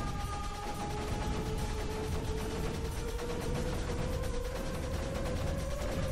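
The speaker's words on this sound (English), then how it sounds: "So at least now the mortar's firing and clearing stuff out." A mortar keeps firing in the video game Creeper World 3, giving a rapid, regular run of mechanical clicks and ticks over a faint rising tone, with no one talking.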